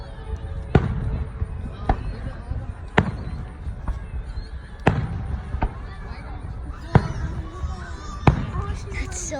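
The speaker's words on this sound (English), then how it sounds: "Look at the firework." Fireworks bursting in a series of sharp, loud bangs about one to two seconds apart, with crackling and a low rumble between them and voices talking quietly beneath.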